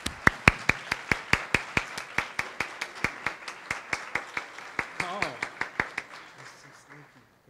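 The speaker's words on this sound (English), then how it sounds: "Can we give another round of applause for Calvin?" A small group claps for Calvin at a ceremony, a sparse, steady rhythm of distinct close claps that thins and fades out toward the end, with a brief voice murmuring near the finish.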